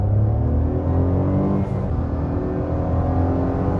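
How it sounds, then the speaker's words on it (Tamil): 2024 Maruti Suzuki Swift accelerating hard with wheel spin, a loud, steady engine drone heard from close by throughout, with a slight dip and recovery midway and no talk over it. "மறுபடியும் வீல் ஸ்பின் ஆச்சு."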